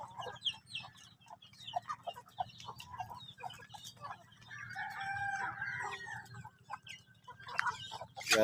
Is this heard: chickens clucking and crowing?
yes